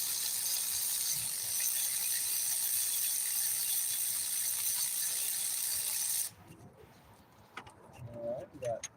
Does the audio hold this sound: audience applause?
no